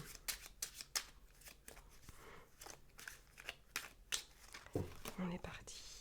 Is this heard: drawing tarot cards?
yes